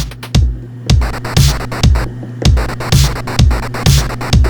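A Korg Electribe 2 groovebox beat with its bit crusher insert effect, giving a gritty, crunchy texture to a steady, loud pattern of punchy kick hits and noisy snare or hat bursts, with no talking.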